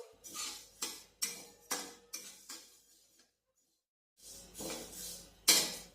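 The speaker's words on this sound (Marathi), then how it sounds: "आपण हे तीळ कमी गॅसवर 5 ते 6 मिनिटं भाजून घेणार आहोत।" Sesame seeds stirred while dry-roasting over low heat in a pan, heard as a series of rhythmic scraping strokes, a pause of near silence, then more scraping and a louder clink.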